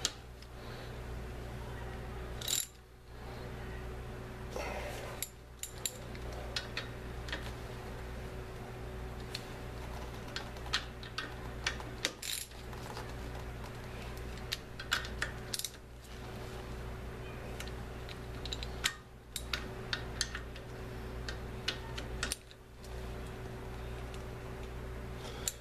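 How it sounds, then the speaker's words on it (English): Ratchet work on the front brakes of a 1985 Toyota 4x4 pickup, a 3/8 drive tightening bolts; close, light mechanical clicking and ticking comes in short bursts over a steady low hum. "I'm just going to use a 3/8 drive and apply"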